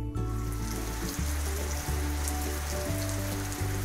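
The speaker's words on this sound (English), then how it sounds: "Then big drops fall from the clouds as rain." Rain falls steadily, a soft hiss of drops pattering on surfaces that continues throughout, with a low tonal hum beneath and no talking.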